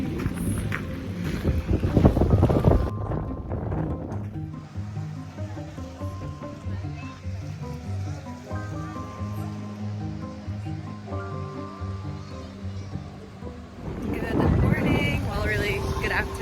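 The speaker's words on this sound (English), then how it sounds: "The breeze. The breeze." Wind gusting past the microphone beside a lake in the gardens at Versailles where rowboats are hired, loud at the start and again near the end, with music playing underneath and a voice speaking over the gusts.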